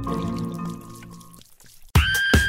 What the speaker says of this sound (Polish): Wszystko kapie na stół.